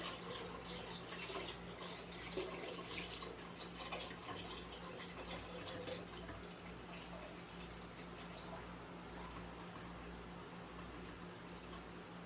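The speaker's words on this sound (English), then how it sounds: "I'm going to pour this directly into here, and I'm going to stir it up some more." Liquid mead mixture being poured into a container and stirred in a small apartment kitchen, a steady close watery splashing and swirling that runs continuously without pause, over a low constant hum.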